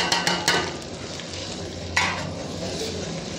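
Spice masalas roasting in a pan with ginger-garlic paste, a soft hiss of frying under a few sharp spoon-on-pan stirring clinks, close and moderately quiet.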